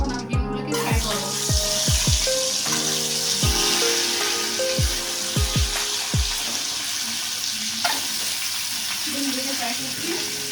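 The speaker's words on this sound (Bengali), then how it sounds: "এখন আমি ডিমগুলোকে ফ্রাই করবো" Eggs frying in hot oil for egg curry, a continuous close sizzle with a run of sharp clinks and taps from a utensil on the pan, loud and steady throughout.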